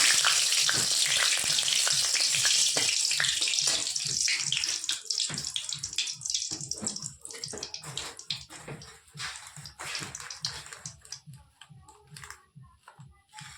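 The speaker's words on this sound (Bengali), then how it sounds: "শুকনো লঙ্কা তেলটা দিয়ে দিলাম।" Dried red chilies crackle and sizzle in hot oil in a home kitchen, a dense steady frying hiss with rapid popping that gradually thins and softens toward the end, with no talking.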